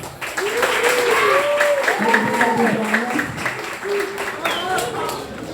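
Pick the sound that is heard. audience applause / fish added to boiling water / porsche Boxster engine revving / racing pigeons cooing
audience applause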